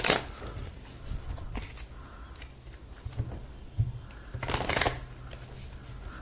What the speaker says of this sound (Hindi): Let's pull one card from this deck before we move forward.